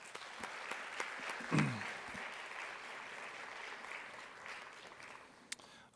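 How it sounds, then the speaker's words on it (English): Faint audience applause at an education office kickoff celebration, a distant, quiet patter of clapping with a brief voice and a few louder individual claps over the top. "Let's give him another round of applause."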